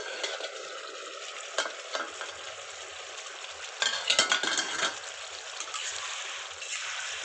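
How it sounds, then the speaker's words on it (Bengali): Potato curry (aloo dum) being stirred and thickened in a pan gives a steady soft sizzle with scraping spoon strokes, a louder cluster of stirring in the middle, no voices. "এবার জলটাকে নেড়ে নিয়ে গাঢ় করে নেব।"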